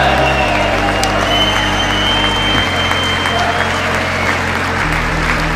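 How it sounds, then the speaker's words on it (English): Audience at a political speech bursts into sustained, loud clapping and cheering, a dense continuous roar of hands with whoops rising through it, close and filling the room. "So this clapping went on for, I bet, 3 minutes."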